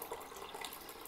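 Water pouring from a tap into an Instant Pot over soaked soybeans, a steady close rushing splash throughout.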